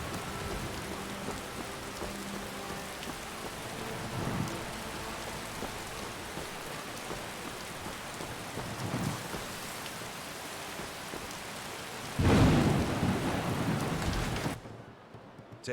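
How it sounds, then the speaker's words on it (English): Steady rain falls outdoors with a soft constant hiss, broken by low rumbles of thunder, including a louder roll near the end before it cuts off abruptly. "I come out here to read, and it starts fucking raining."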